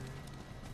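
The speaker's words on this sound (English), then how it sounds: "Get on the horse." Hooves of a horse ridden by the player in Ghost of Tsushima, a quick muffled patter of clip-clop steps under faint ambient game noise.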